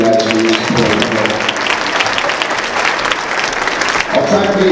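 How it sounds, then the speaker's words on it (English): Audience applause fills a school assembly hall, steady and dense throughout, with a voice speaking briefly over the clapping at the start and again near the end. "So let's give them a round of applause."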